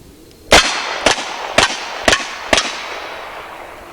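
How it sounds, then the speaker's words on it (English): Five sharp gunshots from a .44 Magnum revolver firing light practice loads at a target range, evenly spaced about half a second apart, loud and close with short ringing decays and no voices. "Ed and I were just talking about the difference in the light loads in this 44 I just shot."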